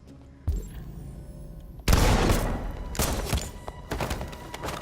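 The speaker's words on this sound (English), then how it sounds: "Oh no, Simon got shot." Gunfire in Detroit: Become Human strikes the android Simon during a rooftop escape: a sharp thunk, then a loud, dense burst of shots rattling in several close clusters with no talk over them.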